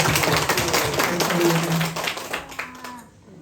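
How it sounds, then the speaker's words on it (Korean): An Easter church congregation breaks into dense, sustained applause lasting about three seconds, then fading, with a voice speaking briefly over the clapping near the end. "우리 예수님께 영광의 박수 한번 올려드리겠습니다"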